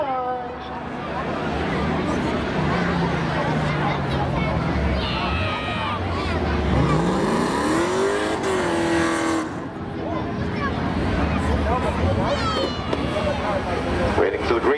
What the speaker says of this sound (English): As Franz blows that little Honda CR-V off the line.